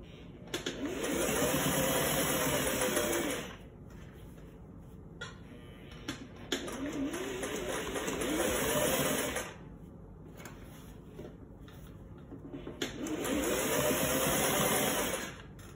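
A sewing machine stitches a dress neckline in three loud, steady whirring runs of a few seconds each, separated by quieter pauses with faint clicks and handling of fabric, no speech heard.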